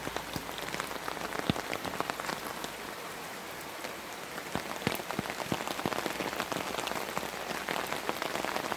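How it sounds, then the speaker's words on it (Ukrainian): Steady rain patters on puddles in a yard in the Carpathians, with scattered drops, splashes and bubbles, an even soft hiss throughout with no voices. "Ось бульбашки такі, то, мабуть, дощ це надовго."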